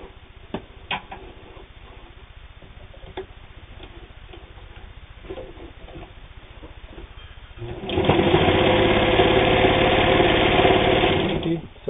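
New Home electric table-top sewing machine stitching through eight layers of fabric. Quiet ticking and faint handling come first, then the motor starts up loud and steady and runs for several seconds.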